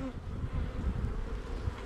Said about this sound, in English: This is the black bee